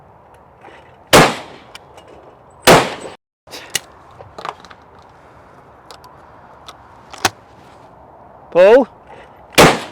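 A £150 Rizzini budget shotgun fires at clay targets outdoors, several loud sharp reports spaced a second or more apart, with a short call from the shooter before the shots.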